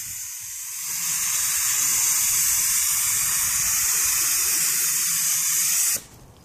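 A spray paint can applies a pearl coat to a child's art project in one loud, continuous hiss that lasts about five seconds and then cuts off abruptly.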